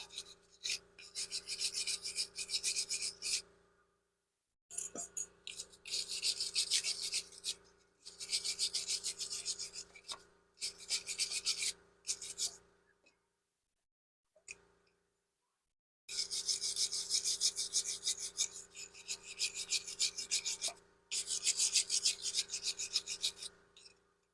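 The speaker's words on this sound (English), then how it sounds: "take a wire brush to it and clean up these surfaces where the hardware sits" Wire brush scrubbing the hardware contact surfaces of a rear brake caliper bracket on a 2015 BMW F15, a close, harsh rasping in steady bursts of strokes separated by short pauses.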